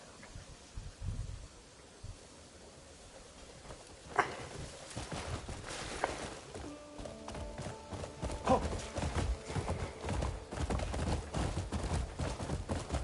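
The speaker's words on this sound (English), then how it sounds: "Horse." Steady hoofbeats of a horse in the video game Crimson Desert clip-clop in a rhythmic walk with a low background hum and a brief synthetic tone in the middle.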